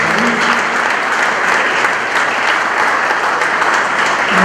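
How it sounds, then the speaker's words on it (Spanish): Loud, sustained applause from a crowd at a political meeting, greeting a guest named Diego, with many hands clapping in an even, dense roar that carries on unbroken with no speech over it. "le pido un aplauso para Diego."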